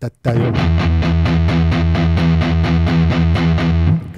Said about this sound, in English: It's a lot of distortion here